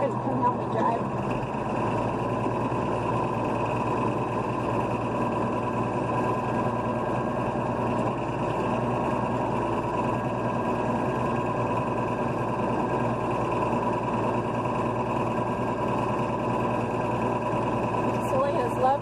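Farm tractor engine running at a steady, droning idle throughout, close and constant, with a person talking over it now and then.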